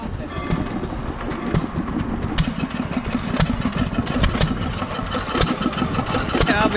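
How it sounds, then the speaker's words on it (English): A 2-horsepower Taylor vacuum engine from the 1920s runs steadily at a heritage festival, with a rhythmic chugging knock, fairly loud and continuous, with faint voices in the background. "Now the 2-horsepower Taylor vacuum engine."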